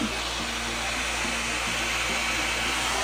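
An Envy Wig 3-in-1 air styler blows steadily on a synthetic wig, a loud constant close-range whoosh of motor and airflow with no pauses.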